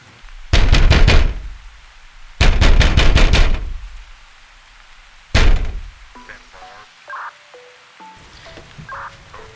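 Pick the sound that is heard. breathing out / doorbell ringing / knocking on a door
knocking on a door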